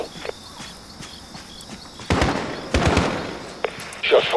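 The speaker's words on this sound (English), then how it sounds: "Shot fired." Gunshots in Call of Duty Modern Warfare, a few sharp loud cracks after a quieter stretch of soft ticking steps, followed by booming reports near the end, with a voice speaking.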